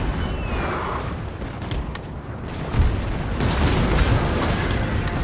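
Cannon fire booms through a Napoleonic-era battle in Total War: Napoleon, a steady roar of distant artillery with sharper blasts near the middle and end, loud and continuous with no talk.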